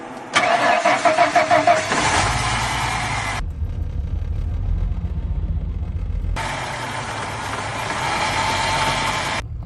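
A 1990 Ford Thunderbird SC with a faulty transmission cranks with a quick rhythmic starter whir, then catches and runs at a steady idle nearby. The revs rise twice, with a quieter rumbling stretch between them.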